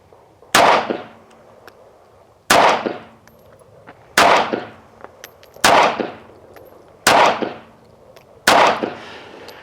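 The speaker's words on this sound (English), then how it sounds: "I'm gonna go ahead and load up a 10-round magazine and just kind of get some shots on the paper again" Six sharp pistol shots from an S&W Bodyguard 2.0 .380 fired at a paper target, loud cracks with ringing decay, spaced at a steady, unhurried rhythm of about one every one and a half seconds.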